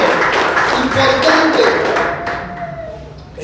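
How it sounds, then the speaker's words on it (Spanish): A church congregation claps and applauds during a sermon, a dense wash of hand claps under ongoing talk that gradually thins and fades toward the end. "¿Cuánto le dan un aplauso a Dios?"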